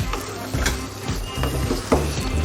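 Egg and onion curry with turmeric being stirred in a pan, with repeated scraping strokes of a spoon in a fairly quick rhythm over a low, soft sizzle.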